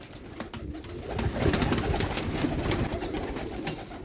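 High flyer pigeons coo softly amid a dense, continuous background of fluttering and chatter, with no single call standing out.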